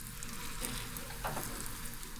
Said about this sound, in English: Fry the croquettes.